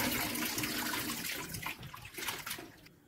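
Tap water runs steadily over freshly sliced tanigue (Spanish mackerel) being rinsed for kilawin, a close, continuous hiss and splash that thins slightly toward the end.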